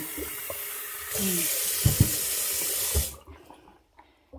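Water runs from a tap at a home in rural Thailand, a steady close hiss that lasts about two seconds, then the tap is shut off and only faint thuds and handling noises remain.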